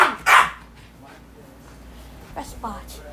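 A dog gives a loud, close bark near the start while reacting to a toy squid, with quieter voices and faint yips afterward.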